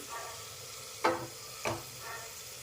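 Chopped onion and potato sauté in a pan for spinach pulao, giving a quiet, steady sizzle punctuated by two brief scrapes of a spatula, with no voices.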